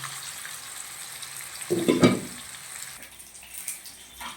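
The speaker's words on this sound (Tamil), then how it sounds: "நான் தோசைகளில் தான் மீன் வறுக்கேன்" Fish pieces fry on a dosa griddle with a steady low sizzle that swells briefly into a louder crackle midway, then settles back. No voices.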